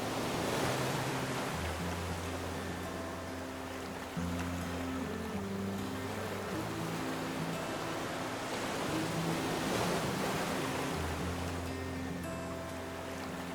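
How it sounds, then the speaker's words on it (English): Waves breaking along a long sandy beach in the Long Point Biosphere Region, heard as a steady wash of surf with low engine-like hums running beneath it throughout. "This beach goes on and on forever."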